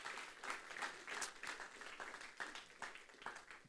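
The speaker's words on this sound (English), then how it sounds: "Can we give Kalia one more giant round of applause?" Applause from a church congregation fills the room with dense, steady clapping that rises and swells over several seconds, heard alone without speech.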